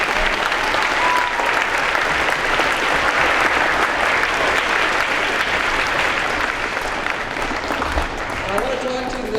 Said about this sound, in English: So please, let's give them a round of applause for speaking.